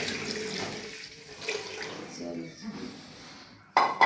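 Water pours steadily into a pressure cooker for masoor lentils under a voice, then a sharp clatter near the end.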